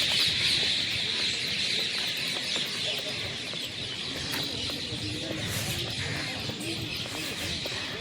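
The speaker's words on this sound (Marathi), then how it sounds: "पक्ष्यांचा किलबिलाट सुरू आहे" Morning birds chirping and cooing along the Narmada riverside near Mandleshwar village, a steady faint chorus of small calls over soft outdoor ambience.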